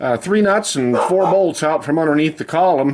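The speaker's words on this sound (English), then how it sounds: "you can hear my shop dog" A shop dog in a car repair workshop gives a run of rapid, whiny, yipping barks that sit right over someone talking nearby.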